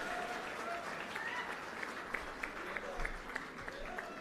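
A crowd at a political gathering in Gujarat claps for an elderly man being honoured, the applause fairly faint and distant, with a voice over a loudspeaker carrying on above it.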